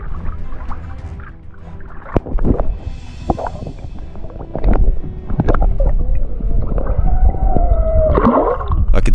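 Humpback whales call underwater off northern Tasmania while a snorkeller listens, with low moans and rising, wavering cries sounding among breathing, water rush and bubbling noise near the mask.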